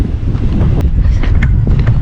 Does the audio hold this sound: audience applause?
no